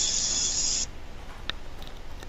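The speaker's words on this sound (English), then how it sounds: "just going to spray all over the burlap here. And this spray, this adhesive glue spray" Adhesive glue spray being sprayed onto burlap for a craft memory board: a steady, loud aerosol hiss lasting under a second, then stopping, followed by faint handling sounds.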